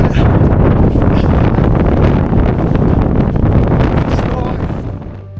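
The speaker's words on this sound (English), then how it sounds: "once on the ridge, and especially the exposed parts of the ridge, the wind was somewhat stronger" Strong wind on an exposed mountain ridge buffets the microphone in a loud, roaring, continuous rumble that eases slightly toward the end.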